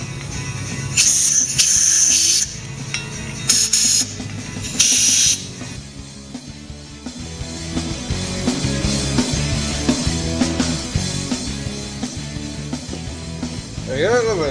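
Compressed air from an air compressor blasts through a cleaned motorcycle carburetor in short loud hissing bursts early on, followed by workshop noise with a voice talking.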